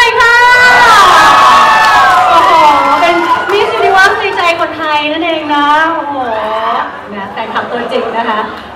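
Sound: fans cheering for Namtan at a fashion show

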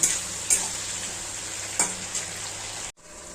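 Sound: prawns frying in a pan

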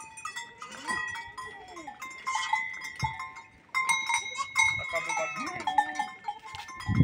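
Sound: goats on a farm

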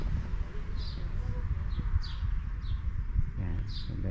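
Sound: birds chirping at seaside corniche

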